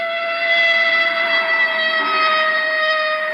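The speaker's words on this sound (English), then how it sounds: "Here comes a fire truck. Oh, an ambulance." A loud ambulance siren wails with a sustained, steady tone, sounding close by and persisting throughout with no other sounds.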